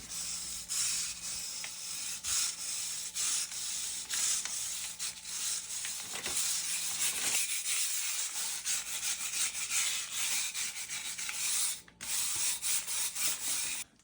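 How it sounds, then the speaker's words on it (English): Wire brush scrubbing efflorescence off a crack in a concrete basement wall, a steady close, harsh rasping scrub that continues for the whole stretch with brief pauses and no talk. "we're going to wire brush off the efflorescence that's on the crack"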